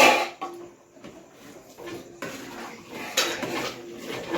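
Pav bhaji with fresh coriander leaves stirred together in a pan in a village kitchen, a spoon scraping and clinking against the metal in uneven close strokes, with a few sharper knocks.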